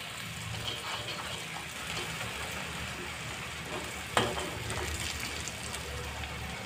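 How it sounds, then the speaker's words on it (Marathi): A coconut and spice stuffing for stuffed brinjal fries in oil in a pan with a steady close sizzle throughout and a single clink of a utensil partway through. "हे थोडंसं तळलं की मग नंतर वांगी टाकून घेऊ।"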